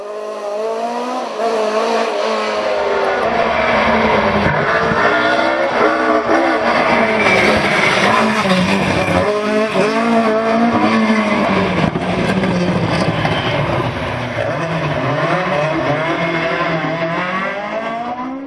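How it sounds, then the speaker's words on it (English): A Ford Escort rally car on the final stage of a rally roars past close by, its engine loud and revving hard, rising and falling through gear changes for the whole stretch. "On to the final stage then, and still rounding out our top 10 as they had done for most of the day, were Hugh Jones and Leon Williams in the Escort."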